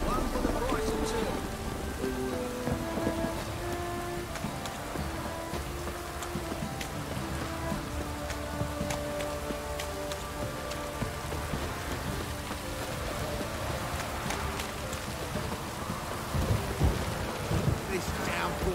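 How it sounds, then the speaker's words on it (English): Steady heavy rain pours throughout in The Witcher 3: Wild Hunt, a dense hiss with scattered louder drops, a low rumble beneath, and faint background sounds mixed in. "This downpour's a bastard"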